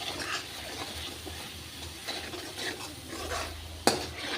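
A spoon scrapes and stirs mixed vegetables with turmeric steadily around a pan, with soft rasping strokes, a low hum underneath, and one sharp clink near the end.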